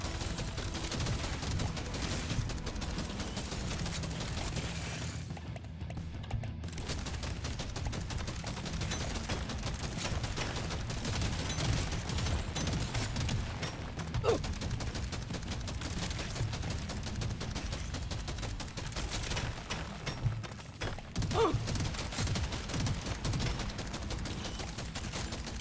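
Rapid automatic gunfire from a weapon in the video game Deep Rock Galactic: Survivor, a dense, continuous stream of shots running throughout with brief dips, layered with game effects.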